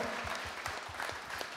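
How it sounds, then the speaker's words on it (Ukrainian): Applause from the audience at a charity business gala auction after a lot is sold, a brief, fairly faint wash of many hands clapping steadily with no talking. "Ваші ручні оплески."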